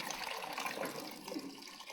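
Water runs steadily into a pedicure foot tub at a salon, a continuous close splashing fill lasting throughout without pause.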